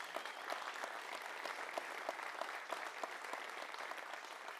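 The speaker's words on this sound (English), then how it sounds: "Give her a round of applause" Audience at a talk giving a round of applause, a continuous, even roar of many clapping hands at moderate volume throughout.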